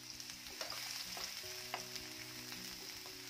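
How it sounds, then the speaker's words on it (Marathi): A large, finely chopped onion fries in hot oil in a pan, a soft, steady sizzle with light stirring clicks, quiet and without voices. "तर छान सोनेरी रंगावर कांदा आपल्याला भाजून घ्यायचा आहे।"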